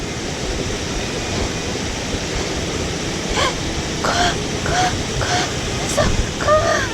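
A waterfall roars steadily up close as a broad, constant wash of rushing water at a river fishing spot, with a few faint short voice-like sounds over it near the end.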